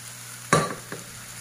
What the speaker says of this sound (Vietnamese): Bây giờ chúng ta hãy cùng cho vào đây để xào chung với rau củ ha.